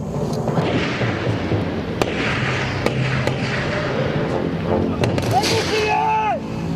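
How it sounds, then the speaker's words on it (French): Gunfire crackles through a French Foreign Legion combat drill, sharp shots popping repeatedly against a dense, steady roar of outdoor noise, with a whistling tone near the end and shouted voices mixed in. "Ça tire."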